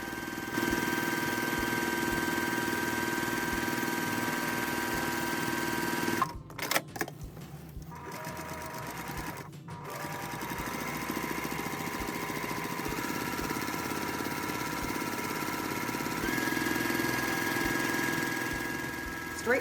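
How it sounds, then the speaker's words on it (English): A sewing machine stitches straight-line quilting rows across a fabric panel guided by a quilting bar, running in a steady close hum with a couple of brief pauses and restarts midway. "Continue stitching in this manner until your entire panel is covered with your straight line"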